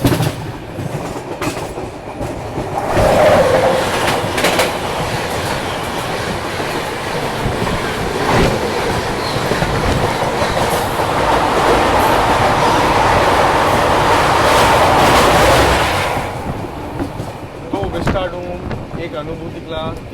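Heard from aboard a moving double-decker train, the Shatabdi Express rushes past on the adjacent track. A loud, sustained roar with rapid clickety-clack of wheels swells and then fades after about a dozen seconds.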